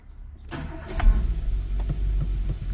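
A Renault Clio 2 with the 1.2 litre 60 hp petrol engine cranks briefly and catches, then settles into a steady idle, close and fairly loud, with no talking.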